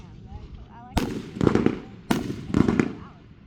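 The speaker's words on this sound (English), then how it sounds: "Those are like the little fireworks." Small July 4th fireworks go off in two sharp bursts, each followed by a crackling fizz, heard nearby over low background sounds and brief voices.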